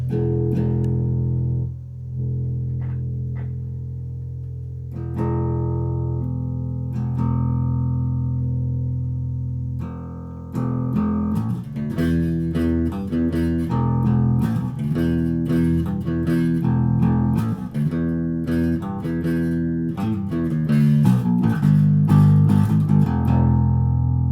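A riff on a short-scale micro bass guitar, plugged into a small amp, with sustained low notes, then busier plucked lines that grow louder and denser, played alone with no talking.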